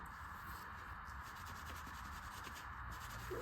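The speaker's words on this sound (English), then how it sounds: "Now I'm going to clean the other steel plate." A motorcycle clutch steel plate with light surface rust on a Servi-Car is rubbed clean, making a steady close scrubbing hiss that runs through the whole stretch.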